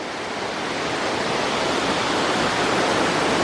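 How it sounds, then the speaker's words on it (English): Dense, steady rush of falling water at the base of Dark Hollow Falls in Shenandoah National Park, heard close and loud with no break for the whole stretch. "This is pretty much the bottom of the falls right here."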